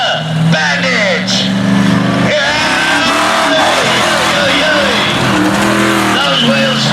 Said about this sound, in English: So the first of the monster trucks.